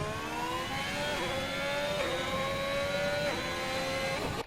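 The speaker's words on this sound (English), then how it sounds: "beyond this point, I'm going to slam the throttle and try not to spin." Formula 1 race car in the F1 2021 video game on the Azerbaijan circuit, accelerating at full throttle: a loud, steady high-pitched engine whine climbing through the gears with brief dips at each upshift, with no talk.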